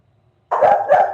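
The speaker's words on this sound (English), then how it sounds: "My dog's barking at something." A dog gives two quick, loud barks close by, back to back, after a moment of silence.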